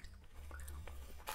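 Soft, close chewing of sticky candy, quiet moist smacks and squishes with a brief louder crackle near the end.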